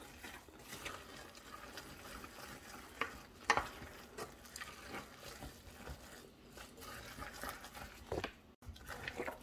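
Apple pieces being stirred in a pan for a creamy apple tart, giving soft, repeated scraping strokes over a faint sizzle, quiet and close, with no talking.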